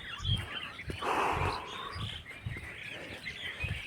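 Small birds chirp outdoors as a flock gathers along a street in the morning, their calls moderately loud and scattered over a low background with soft repeated thumps.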